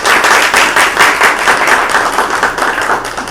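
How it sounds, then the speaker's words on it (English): A committee meeting audience gives a round of applause for a new member, steady rhythmic clapping from a modest group throughout. "Let's give him a round of applause."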